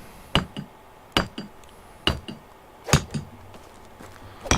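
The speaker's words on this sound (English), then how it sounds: "I'm just beating on the wall outside with a hammer" A hammer beats on the outside wall of a house in Medieval Dynasty, giving about six sharp, clinking strikes at uneven intervals, fairly close and clear over a quiet background.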